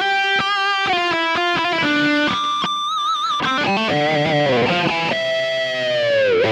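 A heavily distorted high-gain electric guitar with Lace Sensor Gold HSS pickups plays alone, loud and saturated, with choppy chords giving way to sustained ringing notes and bends.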